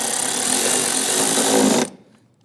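Power tool tightening a bolt during fuel injector replacement on a 2011-2021 Jeep Grand Cherokee 3.6L V6, a steady loud whirring buzz for about two seconds that cuts off abruptly, then near silence.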